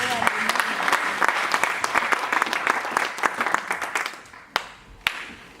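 A church congregation breaks into dense, loud applause that carries steadily for several seconds, thins out, and ends with a couple of last isolated claps.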